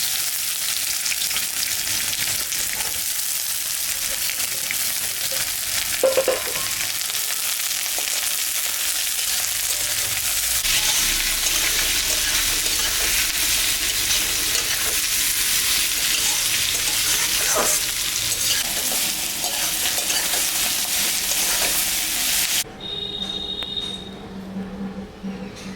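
Chopped onion, cracked chili and crushed garlic fry in hot oil in a pot for pulao, giving a steady, loud, bright sizzle that runs almost without a break, with a faint stir now and then.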